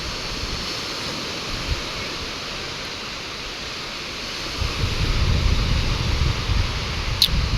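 Continuous rushing surf, waves washing steadily on Laem Mae Phim beach in Rayong, with a heavier surge of water near the end and wind noise on the microphone.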